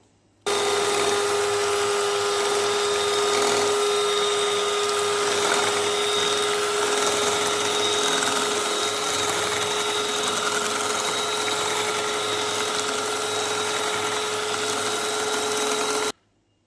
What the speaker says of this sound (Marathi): आपले मँगो आणि रबडी बीट करून झालेली आहे फेटून झालेली आहे